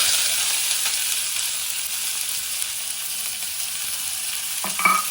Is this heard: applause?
no